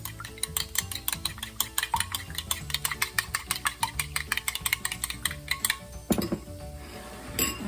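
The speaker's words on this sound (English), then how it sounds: "Let's start off by go ahead and mixing our egg." Egg being whisked in a bowl for mashed potato patties, a steady fast run of clinks and scrapes against the bowl's side that stops abruptly near the end, close and fairly loud with no talking.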